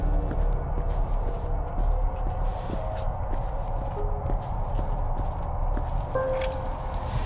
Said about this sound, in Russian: Кто это ржет?